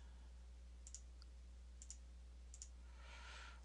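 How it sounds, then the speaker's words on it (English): Numbers are typed on a computer keyboard, with a few sparse, faint key clicks spaced about a second apart over a quiet background hum. "we're just going to take a second and type in those numbers"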